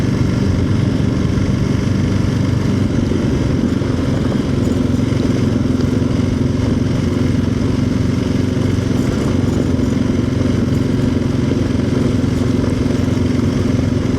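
Steady engine drone from a KLR650 motorcycle riding along in second gear, a constant loud single-cylinder thrum with wind noise that holds evenly for the whole stretch, no speech.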